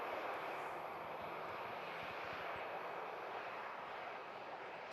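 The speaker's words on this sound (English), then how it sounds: "Sun Express 73 arriving in from Antalya, operated by Tailwind Airlines" An airliner arriving at Manchester Airport, a Sun Express flight in from Antalya operated by Tailwind Airlines, gives a steady, moderately loud jet roar that holds evenly throughout with no voices over it.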